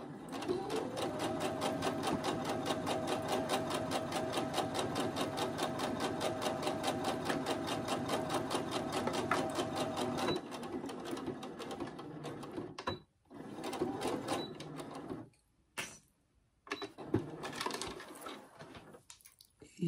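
A sewing machine runs steadily while stitching fabric for a handmade phone pouch, a fast even mechanical rattle for about ten seconds, then shorter bursts with pauses and quiet handling.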